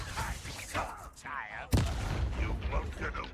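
A Confringo spell fired in the Hogwarts Legacy game lands as one sharp, fiery blast partway through, with game voices and battle noise around it.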